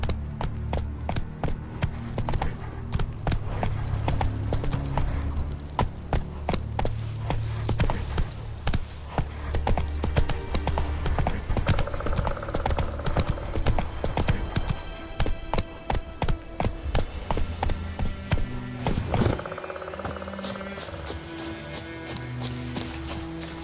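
Horse hooves pound a steady, rapid clip-clop for the whole stretch in the game The Witcher 3: Wild Hunt, close and loud over faint background music. A brief neigh-like sound comes near the end.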